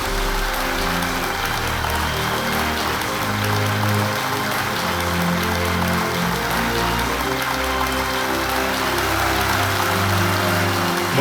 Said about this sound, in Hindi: तालियों के साथ अभिनंदन और स्वागत किया जाए